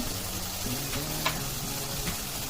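Dry ground spices, turmeric and red chili powder, frying in a pan over medium heat, a steady close sizzle with faint scraping stirs and a couple of light clinks, no voices.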